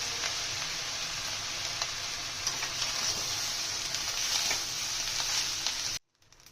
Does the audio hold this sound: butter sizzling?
yes